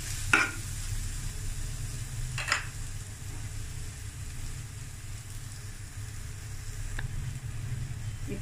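Onion with ginger-garlic paste fries in a pan for an amaranth stem curry, making a steady, soft sizzle over a low background hum, with a couple of brief clatters.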